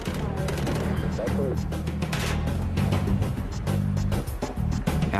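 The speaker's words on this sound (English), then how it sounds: "After almost 2 minutes of intense fire, Mătăsăreanu drops his weapon." Dense automatic rifle fire from a bank robbery shootout in North Hollywood rattles in rapid overlapping bursts throughout, loud and sustained, with a narrator's voice over the top.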